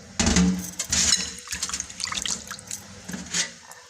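Mixed lentils swished and rinsed by hand in a bowl of water, with close splashing and trickling in irregular bursts and short pauses, a few drips between.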